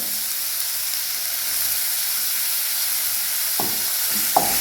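Onion sautés in a pan for a spicy rice-papad curry, a steady, moderately loud sizzle with two brief clinks of a spoon against the pan near the end, and no talking.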